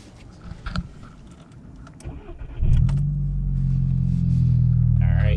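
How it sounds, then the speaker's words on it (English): A Volkswagen GTI being started after a check engine light repair, with handling noises and a faint voice before the engine cranks and catches, then settles into a loud, steady close-up idle rumble. "We're going to start the car back up. And then we're going to go for a drive"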